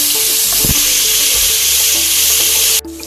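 Garlic and green chili mix sautéing with spices in a pan for Arabic-style rice, a loud steady sizzle with a stirring scrape near the start, cutting off abruptly just before the end.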